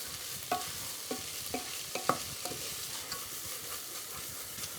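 Leftover cooked beef browns in a pan with a low, steady sizzle, and a few light scrapes and taps from stirring stand out early on, fairly quiet and close.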